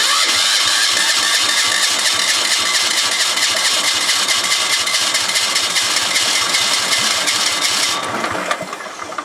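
A Weasel tracked vehicle engine, its battery running low, cranks in a loud, fast rhythmic churn for about eight seconds before catching into a rougher, uneven running note near the end, close and without talk.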